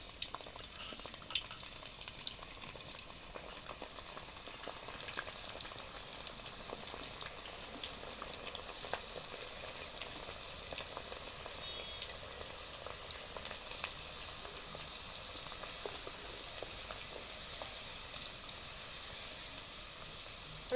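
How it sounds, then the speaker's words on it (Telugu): Steady crackling sizzle of onions and cumin seeds frying in oil for tomato pickle, a continuous close hiss with scattered pops throughout. "పొట్టు తీసిన వెళ్ళిపోయాలు ఒక రెండు చెటాకులు పోసుకోవాలి నూనెలో ఒక రెండు చెంచాల జీలకర్ర వేసుకోవాలి"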